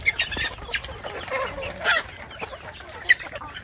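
Indonesian free-range village chickens cluck in short, scattered calls, with a few sharper squawks standing out among the flock's close, lively chatter.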